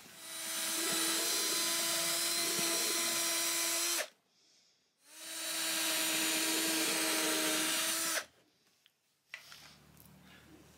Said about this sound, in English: I'm going to do a pilot hole where this pin end jack's going to go.